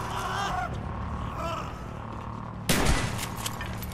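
A gunfire shootout in Call of Duty Black Ops, with a loud close burst of shots breaking out near the end over a steady background of game ambience and muffled tones.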